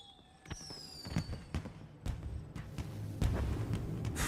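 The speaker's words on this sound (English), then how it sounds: "Fireworks? I thought you said they were detonators!" Fireworks burst in a dark, foggy sky, giving a run of sharp, separate bangs and crackles with whistling rockets rising early on, moderately loud and echoing.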